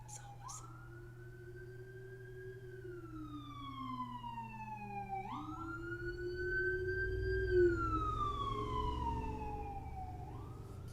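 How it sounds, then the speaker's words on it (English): Several emergency vehicle sirens pass outside, loud wailing tones that rise and fall in long repeated sweeps and build closer toward the end over a low traffic rumble. "There comes more sirens."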